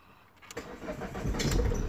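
A Ford Mondeo with a weak battery and a low fuel pressure fault fires up after cranking, the engine catching and rising into a steady, close running note.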